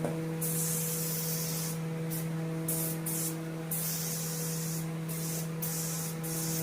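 A spray gun laying down a paint coat at low pressure on a Zephyr's Essex V6 car, a close steady hiss that cuts in and out in short bursts over a low constant hum, with no talk.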